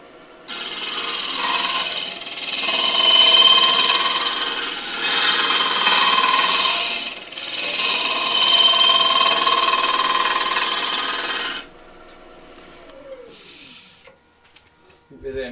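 Wood turning on a lathe, a tool removing material from a thin-walled piece: a loud, steady scraping rasp in several long passes with short breaks, then the lathe winding down near the end.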